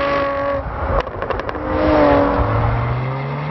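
A loud Jaguar F-Type sports car engine revs and roars up close, with a brief crackling pop sequence in the middle before the pitch climbs again.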